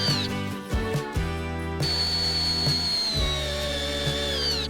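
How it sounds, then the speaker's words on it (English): A power screwdriver drilling holes in wood while a round treehouse is built, its motor whirring steadily with shifting pitch and short interruptions as the bit bites in, close and loud. "Using a screwdriver, we drill holes where the circle will be fastened."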